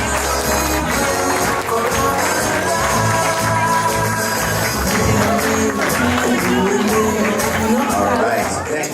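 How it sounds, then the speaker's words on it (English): Wedding guests applaud at a reception, a dense, steady wash of clapping and crowd noise mixed with loud music throughout. "Let's have one more extra special round of applause"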